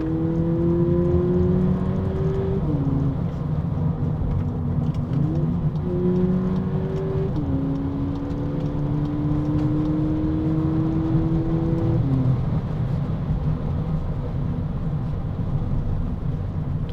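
A 2024 VW Polo GTI accelerates hard through several gears, its engine and exhaust note rising steadily between shift drops, heard continuously from inside the car with no talking.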